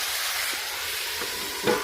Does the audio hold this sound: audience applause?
no